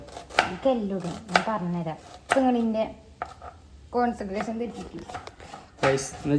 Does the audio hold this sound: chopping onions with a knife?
yes